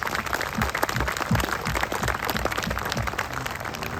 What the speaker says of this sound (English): we should all give them an incredible round of applause